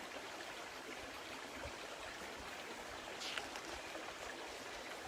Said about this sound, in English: Do you see this faucet and the water that flows?